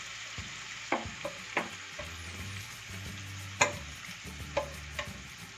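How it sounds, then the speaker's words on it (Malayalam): Mutton gravy stirred in a pan, a spoon scraping and knocking in irregular strokes over a steady low sizzle, close and fairly quiet with a few sharper clacks. "ഗ്രേവി ഇതുപോലെ ഒഴിച്ചിട്ട് നമുക്ക് നല്ലതായിട്ടൊന്ന് ഇളക്കിയെടുക്കാം"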